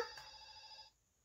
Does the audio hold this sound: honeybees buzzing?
no